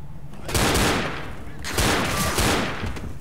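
Rapid gunfire in the Left 4 Dead zombie shooter, two loud bursts of close, rattling shots about a second apart over a constant roar of background game noise.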